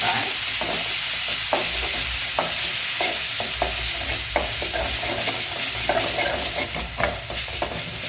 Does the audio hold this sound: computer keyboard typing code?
no